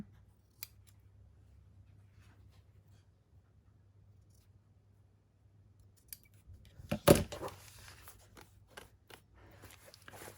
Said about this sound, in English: I'm going to trim this one down a bit.